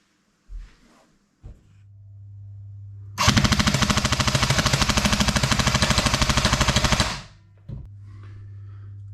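An airsoft A&K M60 support gun fires one long, rapid, loud mechanical burst of evenly spaced shots at close range, framed by a few single clicks and a steady motor hum before and after.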